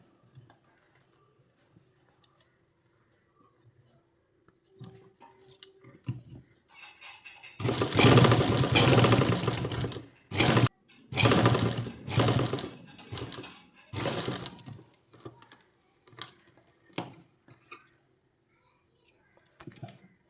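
A sewing machine stitching fabric, likely a garment sewn at home, runs in a few loud bursts of steady mechanical whirring separated by short pauses, after a quiet stretch with faint handling noises.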